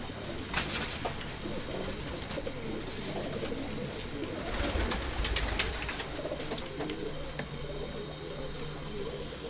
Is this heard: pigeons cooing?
yes